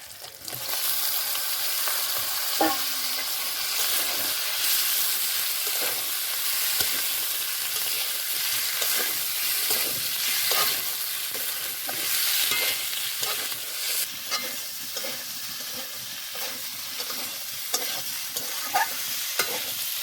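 Washed kuche (mud eel) fish frying in a pan, with a steady, dense sizzle and repeated scraping stirs throughout, close and alone with no talk.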